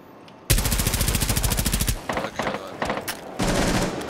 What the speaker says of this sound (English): That was me shooting the trophy window.